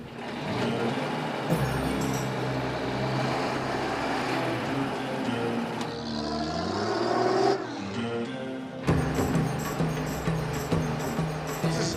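A truck carrying passengers in its open back drives through Iran. The engine rumbles and shifts through gear changes, with one brief drop before the loud road noise resumes.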